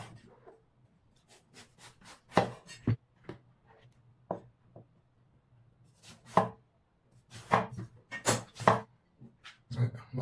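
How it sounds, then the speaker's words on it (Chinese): A peeled round eggplant being sliced into long rectangular strips with a knife, sharp close chops on a board in irregular bursts, some rapid runs of strokes and quiet pauses between. "把茄子切成长方条"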